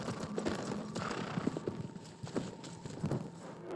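In Shadow of the Colossus, a horse's hooves clip-clop steadily over the ground at a walking pace, each hoof strike close and distinct against a low ambient rumble.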